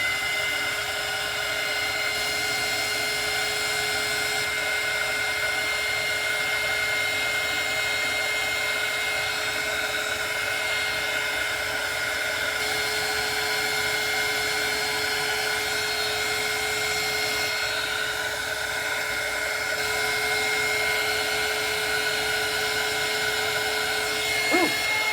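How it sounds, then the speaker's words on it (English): A heat gun blows hot air over smoother sealer, a steady loud whooshing hum that runs unbroken and close-up for the whole stretch, with a faint tonal whine riding on top and no talking. "I'm gonna hit that with the heat gun now."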